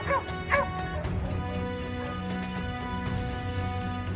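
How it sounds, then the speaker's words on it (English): Hunting dogs on a boar hunt in snow, giving a few short high yips and whining cries up front, then a continuous lower rumbling din, fairly loud and close. "The hunting dogs began to howl."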